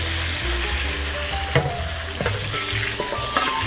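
Butter and oil sizzling loudly in a hot pan, a dense steady crackling hiss close up, with a few clanks of a utensil or pan shifting.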